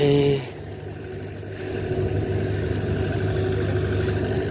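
A tractor engine runs in a rural farm area in Durg, Chhattisgarh, giving a steady mid-pitched rumble that builds slightly and then holds at a constant drone, fairly close, with no talking.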